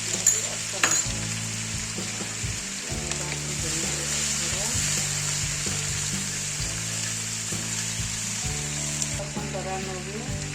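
Plenty of garlic fries in hot oil in a pan with red chilli for homemade chicken pickle, giving a steady close sizzle with occasional stirring scrapes and low background hum throughout.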